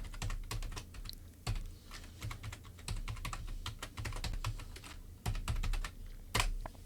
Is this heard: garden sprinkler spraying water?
no